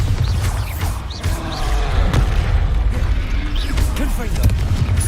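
Bombarda spell explosions in Hogwarts Legacy, a continuous rumbling, booming battle din with repeated bursts and crashes throughout, loud and dense, with voices faintly mixed in.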